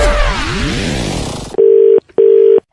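Telephone call being placed: a sweeping dialing warble gives way to two long, loud steady tone pulses with a short gap between them.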